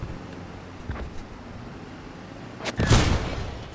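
In the video game Squad 44, an anti-tank weapon fires at a tank, giving a sharp, loud blast with a short rumbling tail after a few faint distant battlefield thuds.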